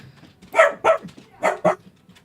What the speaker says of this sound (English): I started hearing a dog barking in here.